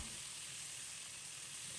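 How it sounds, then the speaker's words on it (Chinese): Steady, even sizzling of chicken wings pan-frying over medium heat, a continuous hiss with no talking. "再次开中火煎1分钟左右，把鸡翅煎至4面金黄"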